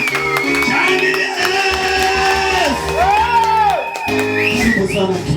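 A church congregation cheers and raises wavering, ululating cries over loud, ongoing music, the shouts and whoops rising and falling together in a lively, crowded swell.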